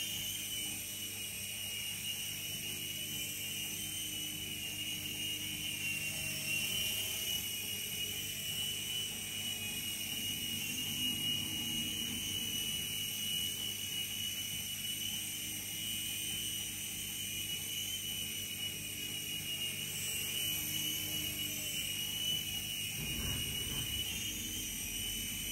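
A T2M Spark SX RC model helicopter on a short flight: a steady, faint, high-pitched whine from the rotor and motor holds constant throughout, with one brief thump near the end.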